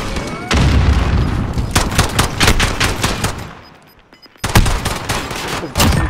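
Gunfire from the Call of Duty Modern Warfare 2019 video game, with loud close bursts of rapid shots and single cracks, a brief lull, then more firing.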